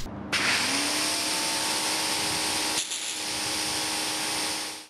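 A Greenworks pressure washer fitted with a wide spray tip, running as one steady, loud broadband hiss and motor drone, briefly dipping midway before carrying on without voices.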